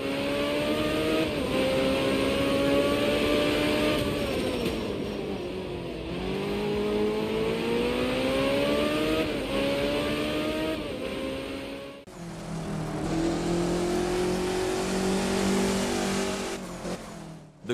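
Rally cars racing in the video game Art of Rally, engines revving up and down in steady waves with gear shifts, a sharper change in engine note partway through, loud and continuous with no talk.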